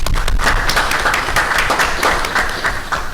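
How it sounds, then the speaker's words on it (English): An audience at a town council meeting in Colmar Manor breaks into steady, dense applause for the public works department, loud and sustained before tapering slightly at the end. "a round of applause to our Department of Public Works"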